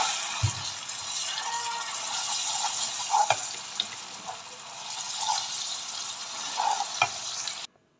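Butter stirred into hot caramel in a pan: a continuous bright hiss of sizzling with occasional soft clinks of the utensil, close by, cutting off abruptly at the end.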